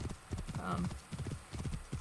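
Horse hooves clip-clop in a steady, galloping rhythm in the video game Assassin's Creed Origins, with a brief whinny partway through and game sounds underneath.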